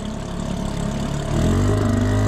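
A boat motor running on a lake, a steady close engine drone with low humming tones that rise and thicken partway through as it picks up revs.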